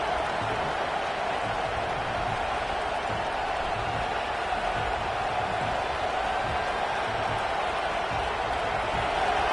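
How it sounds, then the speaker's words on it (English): A stadium crowd roars at a college football game in the College Football 26 video game, a dense, steady wall of cheering that holds without a break from start to finish. "These fans are going absolutely nuts."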